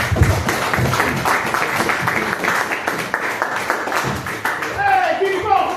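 Crowd applause for a stand-up comedian at a comedy show, a dense crackle of clapping heard throughout, with voices and cheers mixed in.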